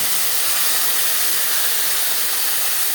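Whole cumin seeds sizzle in hot oil in a kadai, producing a loud, steady, hissing spray of frying noise throughout with no voices.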